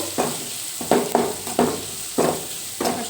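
Turmeric powder stirred into frying onions in a pan for Bombay sagu: steady sizzle under a series of rhythmic scraping stirring strokes, close and fairly loud, with no talking.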